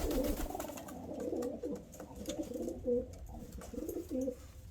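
Pet pigeons coo in a low, throaty rolling pattern, several birds calling repeatedly and fairly close, with no talk over them.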